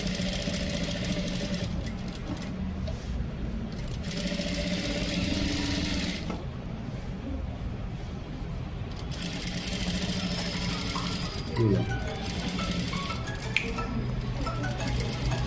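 A sewing machine stitches a blouse lining in a straight seam, its steady mechanical whir running in long bursts with brief pauses, close and moderately loud, with no talking.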